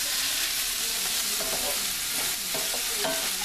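A spice mixture for stuffed paleo pork chops is stirred in a hot pan, a steady close sizzle with soft scraping stir strokes running through it, no voices.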